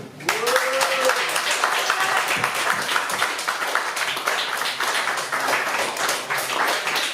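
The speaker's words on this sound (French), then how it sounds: "On peut applaudir très fort Pascal." A concert crowd in Nice claps hard for a performer named Pascal: loud, continuous applause from many hands that holds steady for the whole stretch, with a brief tone at the start.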